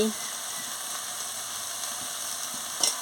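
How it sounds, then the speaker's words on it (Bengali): Turmeric powder hits a hot pan of ridge gourd and poppy seed, giving a steady, even sizzle of frying with a faint stir and a brief clatter near the end. "এবার আমি হলুদের গুঁড়ো দিয়ে দিচ্ছি"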